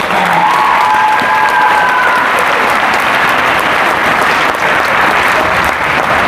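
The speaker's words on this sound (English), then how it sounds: "a big round of applause for 14 Taylor" Sustained applause from a crowd at a volleyball academy's end-of-season celebration, steady and full throughout, with some cheering mixed in near the start.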